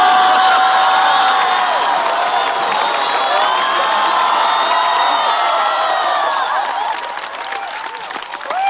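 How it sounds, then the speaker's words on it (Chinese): A stand-up comedy audience breaks into loud, sustained applause mixed with cheering and whistles, the roar steady and close before thinning slightly toward the end. "但是掌声不要停"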